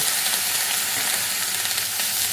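Coarsely cut onions frying in a little oil while being stirred for spicy bitter gourd (korola) fry, a loud, continuous sizzle with scraping stir noises and no talking.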